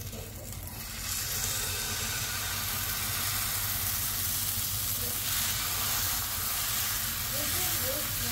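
Dosa batter sizzles steadily on a hot pan, a dense, continuous hiss that rises after a quieter first second and holds close and even throughout, with no voices.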